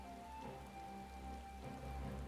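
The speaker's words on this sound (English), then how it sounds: "It's raining all the time." Soft, steady rain falls in Final Fantasy XIV's land of Doma, a quiet continuous patter with faint tonal ambience beneath it and no voices.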